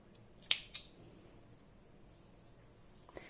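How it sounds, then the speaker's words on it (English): Scissors snip through acrylic yarn right after a crochet chain on a round coaster, a crisp double snip near the start and a faint click near the end, otherwise quiet. "I'm making one chain and cutting the yarn."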